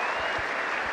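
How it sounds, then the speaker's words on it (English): Cricket crowd at Trent Bridge, Nottingham, applauding a batter reaching fifty in a Test match between England and New Zealand, a dense, steady wash of clapping from the stands. "pick up Ben Duckett raising the bats to the stands and taking applause"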